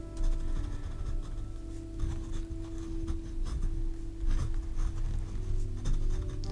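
Kakimori metal nib drawing flowers and leaves with fountain pen ink on paper, a soft continuous scratchy rubbing that shifts with each stroke, steady and close beneath a low background hum.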